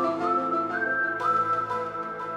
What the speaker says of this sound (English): stumbled upon this whistle thing